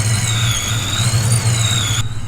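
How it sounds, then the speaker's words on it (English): A 1988 Ford Mustang Foxbody, an old barn find, warms up on a cold day: a steady, close, pulsing low exhaust rumble with a high whining squeal over it. The sound cuts off near the end. "while the car is warming up and you get to hear that lovely exhaust note in the background"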